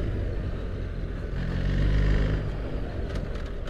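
A BMW R 1300 GS Adventure motorcycle at riding speed, steady engine drone under wind roar, swelling briefly and settling as the automated gearbox shifts up to third.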